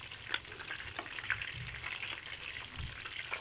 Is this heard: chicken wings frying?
yes